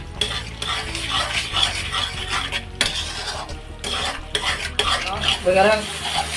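Banana halwa with broken cashews being stirred in a pan, a steady scraping and sizzling with utensil clatter running throughout, close and fairly loud.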